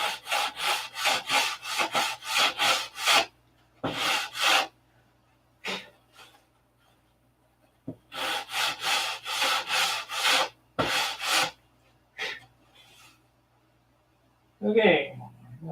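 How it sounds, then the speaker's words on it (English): A wooden model airplane fuselage is sanded flat by hand in rapid back-and-forth strokes, with two long bursts of rhythmic, close scratching separated by pauses and a single isolated stroke, followed by a brief voice near the end. "I'm sanding a flat on this, so the rudder has some place to glue to."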